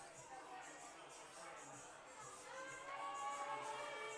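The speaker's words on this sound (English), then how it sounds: "the fans are booing him" Baseball fans in the stands boo a batter at a Batavia Muckdogs home game against the Elmira Pioneers. The crowd noise is steady and fairly distant, with a mass of voices that swells near the end.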